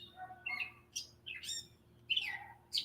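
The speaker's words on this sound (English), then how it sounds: "I still hear birds chirping." Several birds chirping and tweeting in short bright bursts, moderately close, with gaps between calls and a faint electrical hum beneath, heard during an online call.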